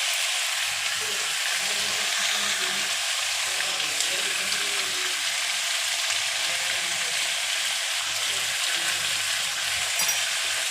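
Gathi kochu, or taro, frying in a pan while being stirred: a continuous close sizzle with scattered scrapes and stirring knocks, with no voices.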